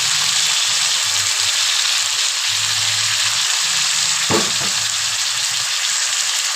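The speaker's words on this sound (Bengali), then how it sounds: "এবার দিয়ে দিলাম আমি টক দইটা।" Sour yogurt poured into hot oil for a potato and pointed gourd curry, giving a steady, loud broadband sizzle with a brief sharp burst partway through as it hits the pan.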